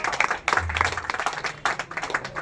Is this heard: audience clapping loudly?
yes